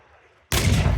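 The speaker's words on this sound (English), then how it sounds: "Next up, we should have our 76mm, which is mounted on the Scorpion down here." A 76mm gun mounted on a Scorpion tank fires at a military vehicle firepower show, one sudden heavy blast that breaks a near-silent lull and booms on loudly.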